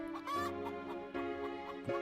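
A rooster crows in a long, strained call with harmonic tones, close and fairly loud, with no other sounds.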